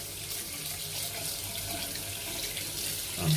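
Tap water runs steadily from a faucet into a sink while a water-resistant Pro Design hair clipper is rinsed, a continuous close hiss with no speech over it.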